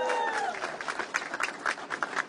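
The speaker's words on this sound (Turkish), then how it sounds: "alkışlıyoruz." Guests at a wedding ceremony applaud after the bride's yes, a scattered patter of clapping that rises and dips over a couple of seconds, with murmured voices underneath.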